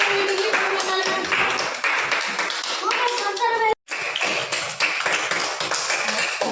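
Children in a class clap their hands together during a balloon balance game, with a steady run of clapping, a brief pause, then more clapping, all mixed with children's voices.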